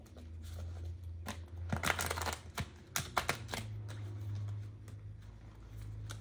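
Tarot cards being shuffled quickly by hand, a run of crisp riffling snaps and papery flutters at close range, with bursts clustered near the middle and a steady low hum underneath.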